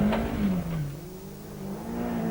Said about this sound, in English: An unexpected convert to the new two-wheel drive club is the veteran and 5 times British champion Jimmy McRae in the new Volkswagen Golf GTI